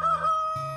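A rooster on a winter homestead crows once: a short, close, fairly loud call with a pitch drop partway through.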